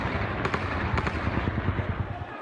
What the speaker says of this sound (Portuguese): Moradores dessas cidades registraram com o celular tiros cruzando o céu e pânico nas ruas